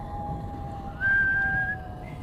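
A man whistles a single steady, clear held note, loud and close, over a low background hum in a spooky folk-mystery audio drama setting.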